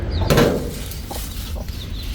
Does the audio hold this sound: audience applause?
no